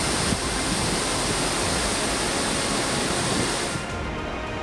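Floodwater rushing over railway tracks in Porbandar after heavy overnight rain, a loud continuous broadband roar of flowing water without pause.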